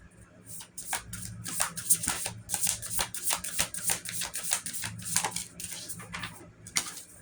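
A deck of tarot cards is shuffled by hand in quick, uneven bursts of riffling and slapping, close and clear for several seconds, with faint background sound beneath.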